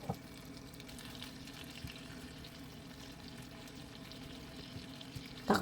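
Sauce poured over chicken wings cooking in a pot, a steady liquid wash with a soft sizzle running evenly throughout at a moderate level.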